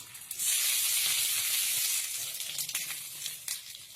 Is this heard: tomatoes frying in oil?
yes